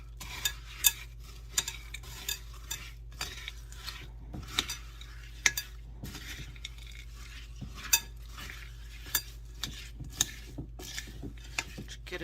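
A spoon stirs melted butterscotch and chocolate with chow mein noodles in a pot, giving soft rhythmic scraping and repeated light taps against the rim over a steady low hum.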